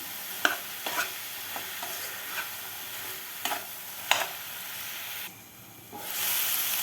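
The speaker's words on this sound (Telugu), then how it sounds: "బెండకాయ ముక్కలు వేసుకుందాం బెండకాయ ముక్కలు కూడా మగ్గ పెడదాం మూత పెట్టుకుని" Okra pieces frying with softened onions in a pan for a tangy okra stew, a steady hiss and sizzle broken by a few scraping stirs, then a brief dip as a lid goes on.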